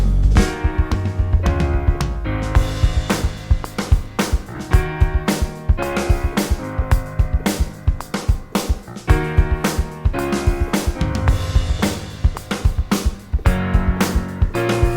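A rough draft of a song chorus, busy and loud, with punchy drums, deep bass and layered synth chords driving a steady beat, no vocals.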